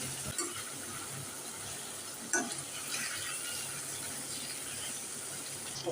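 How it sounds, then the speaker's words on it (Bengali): Fish is added to spice paste frying in a pan and stirred in. A soft, continuous sizzle carries on with a couple of brief scraping stirs, fairly quiet and without speech. "এদিকে মশলা বোনা হয়ে গেছে, আমি মাছগুলো দিয়ে দিচ্ছি।"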